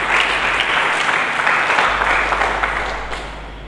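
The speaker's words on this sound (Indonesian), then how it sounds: "Berikan tepuk tangan dulu bagi Yesus Kristus." Sustained applause from a church congregation fills the room, a steady dense wash of clapping that fades slightly toward the end.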